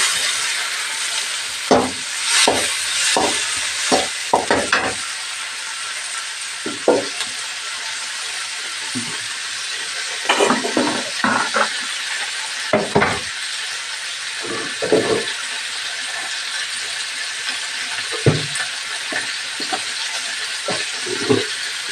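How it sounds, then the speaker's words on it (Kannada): Chopped tomatoes going into a hot pan of frying drumsticks and onions, a steady sizzle with scattered stirring clinks and scrapes spread throughout, fairly close and without talk. "ಇವಾಗ ಕಟ್ ಮಾಡಿರೋಂಥ ಟೊಮೊಟೊನ ಸೇರಿಸ್ಕೊಳ್ತಿದ್ದೀನಿ"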